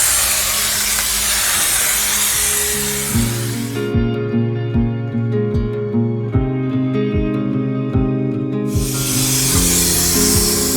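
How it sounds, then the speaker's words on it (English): Loud aerosol spray hisses in bursts, with a steady rhythmic mechanical thumping and droning tones between the sprays. "used spray adhesive to stick the insulation to the walls"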